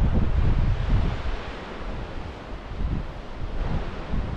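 Sea waves wash against the shore at the Giant's Causeway while steady wind buffets the microphone, a loud, continuous roar that swells and eases, with no voices.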